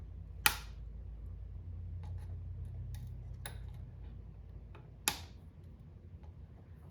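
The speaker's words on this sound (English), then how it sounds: "I'm going to take my cutters and I'm going to cut off all these legs just above my solder" Wire cutters snip component legs on a circuit board during an arcade restoration: two sharp, close snaps a few seconds apart with faint ticks between, and no talk.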